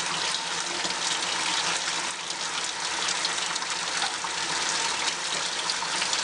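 Running water rinsing a makeup brush clean under a tap, a steady, continuous gushing splash with a slight fluctuating texture, close and fairly loud throughout.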